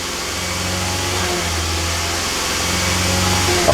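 A 2009 Toyota Camry Hybrid engine held at its rev limiter around 2,000 RPM, with the throttle floored after catalytic converter replacement. A steady, loud mid-pitched drone holds near-constant, with a slight dip and recovery midway.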